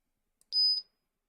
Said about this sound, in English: Oh, it beeped. Maybe it's back up.